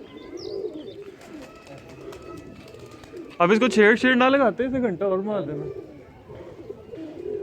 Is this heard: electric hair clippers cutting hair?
no